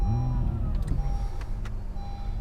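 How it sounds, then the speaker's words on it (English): A 2017 Acura NSX SH-AWD starting up, its engine catching with a rising whir and then settling into a close, low idle hum, with a few short clicks and tones from the cabin. "and then when you start the car like so"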